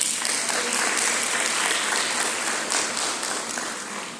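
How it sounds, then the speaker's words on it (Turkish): Audience applause for the student helpers at a school information event, a dense steady wash of many hands clapping, close and loud for the whole stretch. "Sizlerin üzerinde sadece küçük bir alkış alabilirim onlar için"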